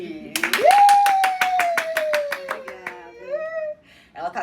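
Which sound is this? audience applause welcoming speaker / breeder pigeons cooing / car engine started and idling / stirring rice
audience applause welcoming speaker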